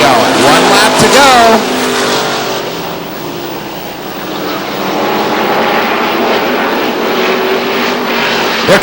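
Race cars roar past on the track at Lee Speedway, New Hampshire, one loud engine whine sweeping by early, then a sustained, fluctuating rumble of the pack on the oval; a commentator talks over the engine noise.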